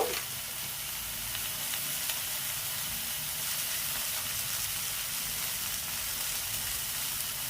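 Chili powder and cumin powder sizzle and fry in hot oil with katla fish pieces for a catla jhal, a steady, close, dense crackling hiss running unbroken throughout.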